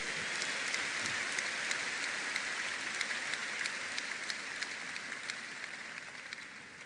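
A church congregation applauds and cheers in praise during Bishop David Oyedepo's sermon, a dense, steady roar of clapping that carries on unbroken from start to finish with no voices rising above it.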